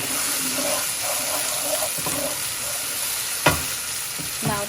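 Blended masala paste hitting a hot frying pan with okra gives a steady, close sizzle and bubbling, with a few sharp clinks and scraping stirs near the end.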